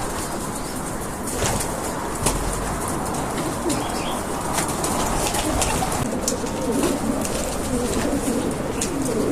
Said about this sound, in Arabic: فكل ما هنالك راح نطلق الحمامة